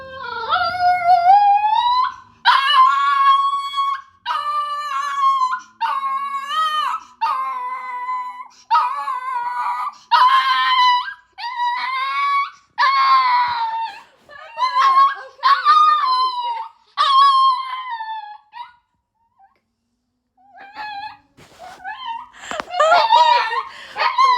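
A house dog howls and whimpers close by in a long series of rising, wavering cries, pausing briefly before resuming, with faint background sounds.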